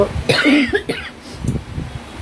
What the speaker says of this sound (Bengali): আবার সেই গলা ব্যথা করছে, কাশি